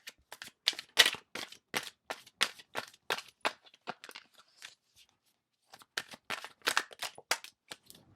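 Crisp, rapid papery clicks of cards being shuffled, in two bursts separated by a short pause, fairly close and moderately loud.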